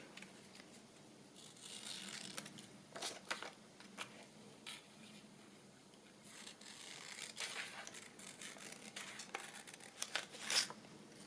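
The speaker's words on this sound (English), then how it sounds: "I'm just going to cut around the beach huts." Scissors snip quietly around beach hut paper pictures for a craft folio, a soft irregular run of small cuts and paper rustles, faint and close, with no talking.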